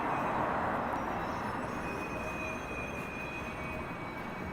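Subway trains at the Davisville subway yard in Toronto make a steady, broad rail rumble with a faint high squealing tone, heard from a moderate distance without talking.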